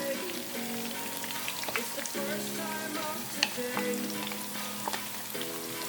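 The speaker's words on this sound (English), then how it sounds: "Alright, so now I'm going to put my onion scallion." Onion and scallion frying in a simmering sauce being made for a Thanksgiving turkey, a gentle crackling sizzle with scattered pops and light stirring, fairly quiet, over a faint steady tonal hum.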